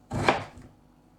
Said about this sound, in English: And also we got some beetroot. Just like potatoes, I'm going to slice them in half and then again thin slices